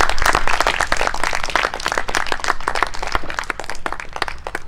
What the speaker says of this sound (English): We'll give him a good round of applause, please, boys.